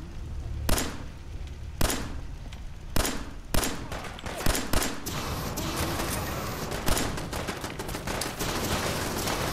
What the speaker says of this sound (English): I think it's a turret